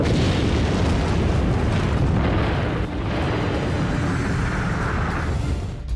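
Massive nuclear bomb detonation, a continuous deep roaring rumble of sustained loud broadband blast noise holding steady for several seconds with no speech.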